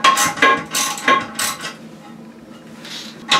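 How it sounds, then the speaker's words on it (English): Metal wrench or socket working the tank bolts on a toilet being fitted with a new flush valve, giving a series of sharp metallic clinks and ratcheting clicks in uneven bursts, close and fairly loud, with no talk. "let's go ahead and put either a wrench or a socket on them"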